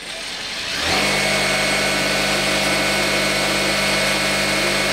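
A Jack A4E sewing machine starts up and runs steadily while winding a bobbin, a close, continuous motor whir with a constant hum that stays level after a quiet start.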